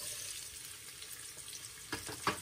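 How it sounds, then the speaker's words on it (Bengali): Onions frying in oil in a cooking pot give a steady, soft sizzle, with a couple of brief louder crackles or stirs near the end; no voices. "পেঁয়াজগুলো দিয়ে দিলাম। পেঁয়াজটা একটু ব্রাউন করে ভেজে নিতে হবে।"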